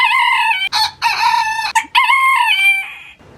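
A backyard rooster crows loudly and close by, several broken bursts of its call with short gaps between, ending in a trailing note.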